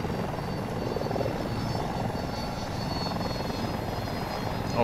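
A helicopter in Battlefield 2042, likely the Mi-240 Super Hind, drones with a steady rotor and turbine roar that fills the whole stretch at an even, close, moderately loud level, with no voices.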